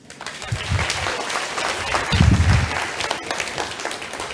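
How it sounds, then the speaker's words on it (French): Conference audience applauding, a burst of clapping from a medium-sized crowd that swells and continues steadily, fairly close. "On t'applaudit."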